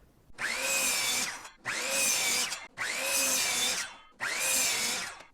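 A power saw cuts 1x6 lumber boards for a tabletop in four separate loud whining bursts, each about a second long with short pauses between them, close by and with no talking.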